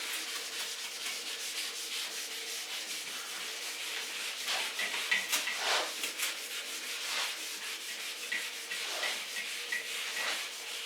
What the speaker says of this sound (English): Use eraser.